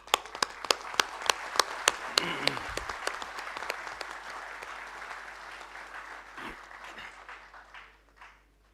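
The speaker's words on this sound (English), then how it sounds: "you really deserve one more applause." Audience applause fills the hall at a 2024 Thapar Institute of Engineering & Technology convocation in Patiala, a crowd clapping loudly. Sharp claps lead in, then it builds into a dense wash that gradually fades out, with some speech mixed in.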